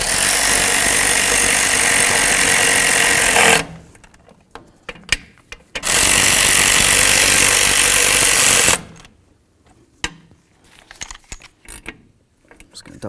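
Bolts on the wheel cylinder of a 1992-99 GMC K1500 are run down with a loud power tool. There are two long, harsh bursts of a few seconds each, separated and followed by sparse metallic clinks and tool handling close by.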